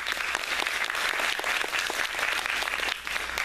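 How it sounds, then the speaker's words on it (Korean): Applause from an audience at a student software presentation event, a dense, steady patter of many hands clapping for several seconds with no talk over it. "박수 부탁드립니다"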